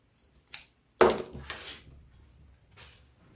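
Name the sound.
scissors cutting off a piece of wreath material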